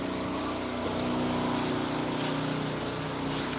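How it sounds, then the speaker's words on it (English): An air compressor runs near digging work outdoors, a continuous low motor drone with a steady pulsing hum, heard from a middle distance without pause. "they've got an air compressor going too"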